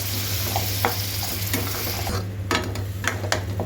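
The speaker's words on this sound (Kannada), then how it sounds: "ನೋಡಿ ಈರುಳ್ಳಿ ಹಸಿ ವಾಸನೆ ಹೋಗೋವರೆಗೂ ಹುರಿದಿದ್ದೀನಿ" Onions sizzle in a pan while a spoon stirs them, scraping sharply against the metal every second or so over a constant frying hiss, up close and without speech.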